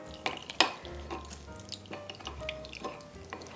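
Juice squeezed from a fruit held and turned in tongs during a simple farm dinner, giving soft wet squishing and dripping with a few sharper clinks of tongs or utensils, close and fairly quiet, no talking.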